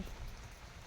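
Soft, steady rain pattering down on an umbrella while chicken grills outdoors, a quiet continuous hiss with no voices.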